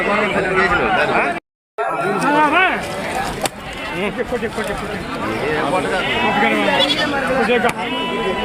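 Goats and kids at a busy goat market bleat loudly and repeatedly, wavering cries overlapping with close human chatter and crowd babble throughout, after a brief dropout near the start.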